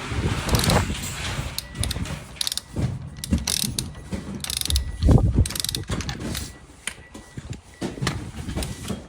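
A ratchet wrench tightens wheel lug nuts during a rear brake pad change, rapid clicking bursts in repeated runs, with clanks of tools and metal parts, close and alone.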